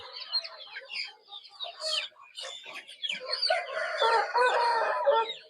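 Native Darag chickens on a Philippine farm cluck and squawk in a busy, overlapping chorus, with several crowing calls rising above the flock, fairly close and lively throughout.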